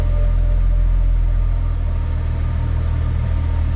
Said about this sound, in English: This is the first time I've heard that clutch chatter, the flywheel chatter.